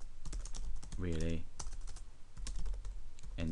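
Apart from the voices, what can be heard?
computer keyboard typing a comment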